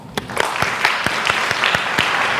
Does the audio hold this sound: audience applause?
yes